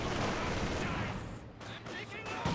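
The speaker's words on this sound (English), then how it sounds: "MG42 firing away." An MG42 machine gun rattles in Company of Heroes 2 in a continuous, moderately distant stream of fire amid battlefield noise, thinning briefly before resuming.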